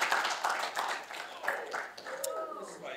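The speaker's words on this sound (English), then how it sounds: "So a round of applause for them." Scattered audience clapping at a Relay for Life kickoff event, light and uneven, mixed with overlapping talk and a brief whistle-like sound.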